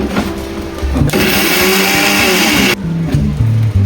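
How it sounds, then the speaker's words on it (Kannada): Electric kitchen mixer grinder whirring loudly as it grinds green masala with garlic, cumin and spice powder, a steady motor roar in pulses that start and stop abruptly, with faint background music. "ಇವಾಗ ಮಿಕ್ಸಿ ಮಾಡ್ಕೋಬೇಕು."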